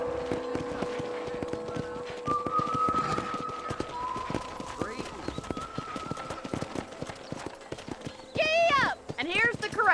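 Horse hooves clip-clopping steadily in the Red Dead Redemption video game, with ranch ambience, a whinny near the end and a voice talking over the hoofbeats.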